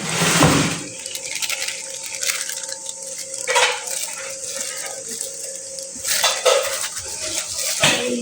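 Yogurt is spooned into a bowl, with close clinks and scrapes of a spoon against the dish, a few louder knocks spaced through the sequence, and a soft wet background hiss.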